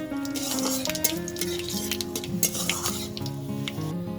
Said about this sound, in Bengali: এবার আমি এতে ফোড়ন দেব একটা তেজপাতা শুকনো লঙ্কা আর কিছুটা গোটা জিরে